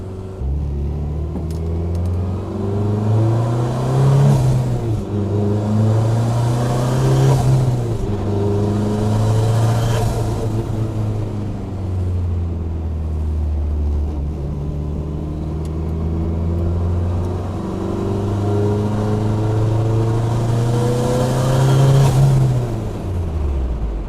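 A car engine, recorded by a VIOFO dash camera, hums and rises through gear changes as the vehicle drives, a steady loud rumble with no voices.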